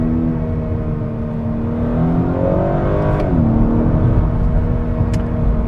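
Engine sound from a 2021 Honda Accord Sport 2.0T is piped through the cabin speakers in sport mode, a steady whirring drone that rises in pitch and then shifts down.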